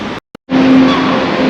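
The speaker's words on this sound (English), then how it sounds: "This is as far as the traffic can go now." Car traffic rolls along a High Street in Poole, a steady close hum of passing vehicles that swells after a short silent break and holds loud with a tonal engine whine.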